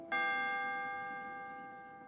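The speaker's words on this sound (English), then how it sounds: "Every time you hear this chime," A single bright chime rings out clearly and then sustains with a slowly fading, bell-like tone, the page-turn signal on a 1979 Kid Stuff read-along storybook record.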